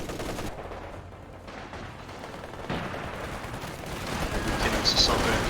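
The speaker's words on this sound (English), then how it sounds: "Assault grenadier is getting gunned down here" Gunfire in a real-time strategy video game, an assault grenadier being gunned down: rapid, overlapping shots and bursts in a busy battle mix that builds louder toward the end.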